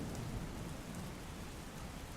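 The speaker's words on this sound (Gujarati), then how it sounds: "અવિરત વરસાદ થઈ રહ્યો છે" Heavy, dense monsoon rain in Gujarat pouring down in a loud, unbroken roar with a deep rumble underneath.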